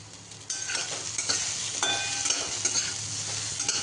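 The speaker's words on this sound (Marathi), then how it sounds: "साधारण एक मिनिटभर ही भेंडी मोठ्या फ्लेमवरती गॅसच्या परतून घेतलेली आहे" Okra stir-fries in a pan over a high gas flame, giving a loud, close sizzle that swells as the vegetables are tossed and scraped, with no talking.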